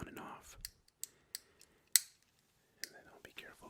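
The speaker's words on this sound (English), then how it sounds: "you can flip the switch on and off" A fidget toy's switch flipped on and off, giving a handful of sharp, isolated clicks spaced apart in a quiet room, close and crisp, with faint soft breathy voice sounds between them.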